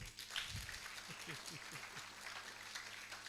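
Audience clapping at a Kisii University innovation week event, a diffuse, moderately loud spread of hands that runs evenly through the whole moment, with a faint low voice murmuring underneath.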